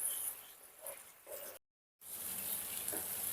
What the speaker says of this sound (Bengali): যতক্ষণ না ভালো করে কষানো হচ্ছে, ততক্ষণ এইভাবে নাড়িয়ে যেতে হবে